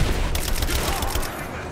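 Rapid gunfire crackles in Rise of the Tomb Raider, a dense fusillade of close shots with several sharp bursts in quick succession, fading slightly toward the end.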